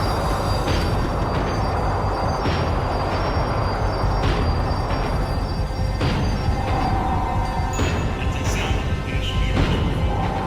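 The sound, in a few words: tram slowing down in video game Max Payne 3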